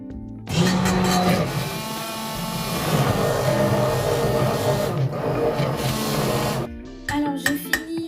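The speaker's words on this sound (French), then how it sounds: "je vais ajouter la farine progressivement et mixer en même temps pour qu'il n'y fasse pas de grumeaux" An electric blender mixes crêpe batter while flour is added gradually. A loud, steady motor whir starts after a brief pause, holds for about six seconds, then stops and is followed by a few knocks.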